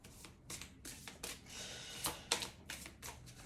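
A deck of cards being cut and handled, giving a quick series of soft papery slaps and riffles, close and quiet, with no talk.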